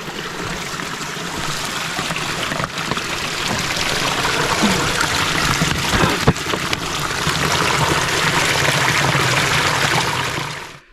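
Steady rushing babble of a creek close by on the Ouachita Trail near Talimena State Park, a continuous bright wash of flowing water that fades out at the end.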